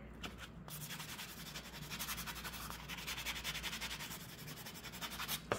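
Steady close scrubbing of a buffing block sanding jewelry wire, quick repeated back-and-forth rubbing strokes, soft and continuous.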